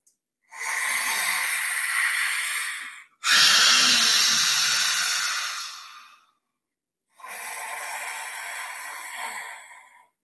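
Deep, strong yogic breaths come in three long, loud rushes of air, each lasting a few seconds, separated by short silent pauses and heard close with no talking.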